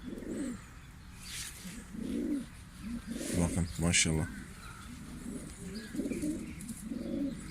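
Diyarbakır Güllü pigeon coos in soft repeated rolling phrases close by, with someone speaking briefly in the middle.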